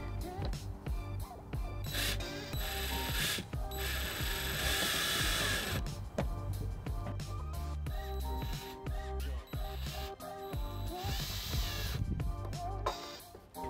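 A ratchet tightens tail light bolts on a 2005 Pontiac Aztek, giving close, repeated clicking bursts of the pawl in rhythmic strokes, steady and moderately loud with no talking.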